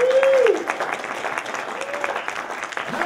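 A crowd at a Christian magicians' fellowship program claps to vote on which rope to use, a moderate wash of applause over a room murmur, with a short sustained vocal tone at the start.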